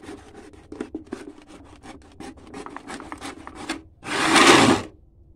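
An adjustable horizontal filleting cutter working through material with a rapid series of short rasping strokes, followed by one louder, longer burst of cutting noise near the end.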